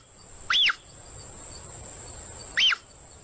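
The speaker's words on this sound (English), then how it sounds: "mountain lions often make bird-like noises, and typically it's because they're calling for their cubs" Mountain lion calling for its cubs with a bird-like whistle, two short rising-and-falling chirps about two seconds apart over a steady high insect drone and faint background hiss.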